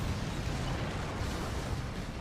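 A booming explosion in the Attack on Titan anime, a dense, roaring blast that fills the whole stretch with sustained rumbling noise and no voices.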